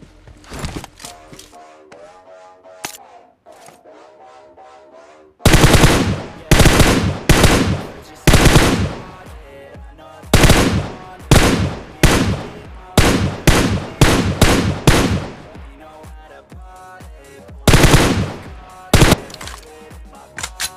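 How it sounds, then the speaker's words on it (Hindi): Rapid bursts of automatic gunfire in the mobile battle royale PUBG Mobile, played on a laggy connection, crack loud and close in repeated volleys after a few quiet seconds of faint game sounds. "डासिया वाले पे मैं इतना शॉट दे रहा हूँ"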